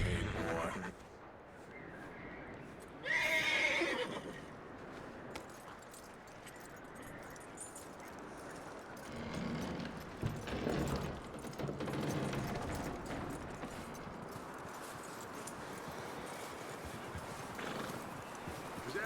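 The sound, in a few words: horse neighing and hooves clip-clopping, Red Dead Redemption 2 video game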